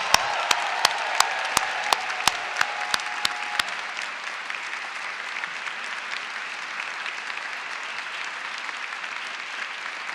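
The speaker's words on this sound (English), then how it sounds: "also one big cheer, please." A graduation ceremony audience breaks into sustained, dense applause, with a series of sharp claps near the start before it settles into a steady roar of clapping that fills the hall.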